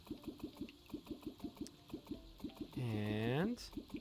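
In the video game Terraria, a rhythmic pulsing water-filling loop repeats at an even pace, fairly faint, with a voice breaking in over it midway.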